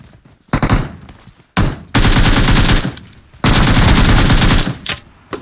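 Loud bursts of automatic gunfire in PUBG Mobile, a short volley followed by two long sustained streams of rapid shots with brief gaps, close and dominant.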